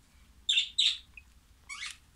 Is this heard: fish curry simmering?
no